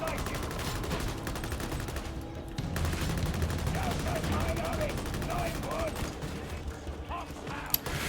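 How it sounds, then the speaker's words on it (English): Rapid autogun suppressing fire crackles continuously in Warhammer 40,000: Darktide, dense bursts of gunshots layered with game effects and mechanical clatter. "Suppressing fire!"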